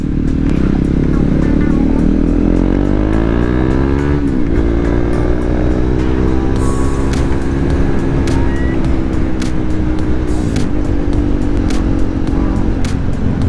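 KTM Duke 390 motorcycle engine revving on a cold early morning in the countryside, with strong rising and falling revs and harmonic swoops over constant loud wind rush and road noise.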